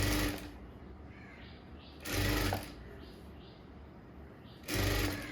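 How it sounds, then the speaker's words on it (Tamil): A sewing machine runs a quarter-inch seam on a blouse back neck being altered and lowered, in three short close bursts separated by pauses. "இதை நான் வந்து ஒரு 1/4 இன்ச்சில் தையல் போட்டுக்கிடுறேன்"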